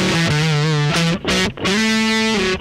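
Electric guitar run through a BLM Drive fuzz pedal plays sustained, heavily distorted notes with a gritty psychedelic fuzz tone, a few held pitches separated by brief pick attacks and short gaps, loud and upfront with no talking.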